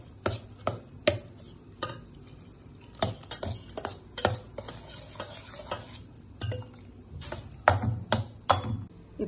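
Cooked rice being mashed with milk for ksheerannam, a sweet rice dish, giving a series of soft, irregular thumping and squelching strokes, close and moderately loud, with no talk.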